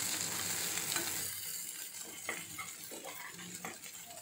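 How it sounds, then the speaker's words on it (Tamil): Spiced goat brain masala sizzles steadily in a pan while a spoon stirs it with soft scraping strokes, close and continuous with no talking. "இப்போ ரெண்டு நிமிஷத்துக்கு அப்புறம் பாருங்கள் இது லைட்டாக அப்படியே பிரட்டி விட்டுக்கலாம்"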